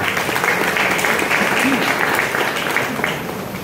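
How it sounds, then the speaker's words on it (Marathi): Audience applause for students and teachers after classical music performances at a state-level medical students' music event, a continuous, loud wash of clapping from a large crowd that eases slightly near the end. "इथला विद्यार्थी वृंद, शिक्षक वृंद यांच्यासाठी एकदा जोरदार टाळ्या मिळवू"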